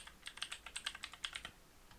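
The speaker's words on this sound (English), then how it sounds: "right click and go to folder and type in growtopia" Quick keystrokes on a computer keyboard, a steady run of about a dozen light taps close to the microphone that stops abruptly, with no talking.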